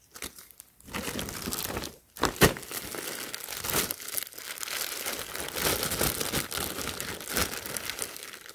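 A plastic bag holding a Supreme x NFL Raiders pocket tee crinkles and rustles close up, in handling bursts with brief pauses, no talk.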